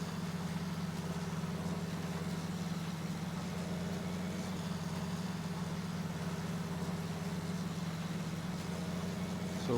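A tractor pulling a seeder in Farming Simulator 19, a steady low engine drone that holds an even hum throughout, with no talking.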